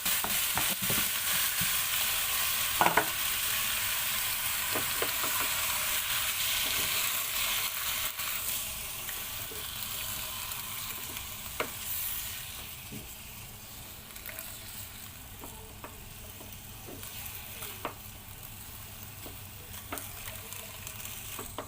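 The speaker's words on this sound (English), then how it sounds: "So next step, we have to put our marinated pork." Marinated pork stir-fries in a pan with onion, a loud, continuous sizzle with scattered clicks of stirring that gradually softens.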